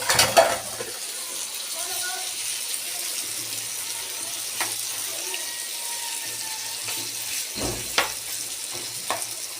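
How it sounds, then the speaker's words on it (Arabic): Fava beans added to tomatoes in a pan, a faint steady sizzle with a few soft clatters and scrapes of a utensil against the pan. "واحط الفول عليه على طول كده."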